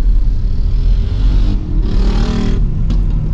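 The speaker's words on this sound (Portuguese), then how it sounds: "A moto ali tava com pressa, hein?" A delivery motorcycle hurries along Avenida Dom Pedro I in Santo André, São Paulo, its engine a loud, close rumble that swells and rises in pitch as it passes, over steady street noise.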